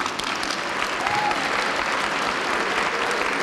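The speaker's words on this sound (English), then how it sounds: "could you please stand and give yourself a round of applause?" Standing audience at a university spring chancellor's convocation applauds steadily, a dense, even wash of many hands clapping throughout with faint crowd murmur.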